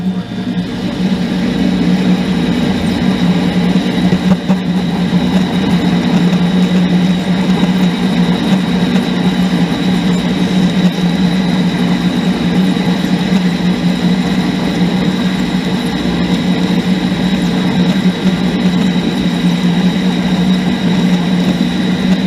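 A Pratt & Whitney Model B metal lathe turns at roughly 300 RPM during a crossfeed repair. It gives a loud, steady mechanical drone with a low hum that stays even throughout, with no talking.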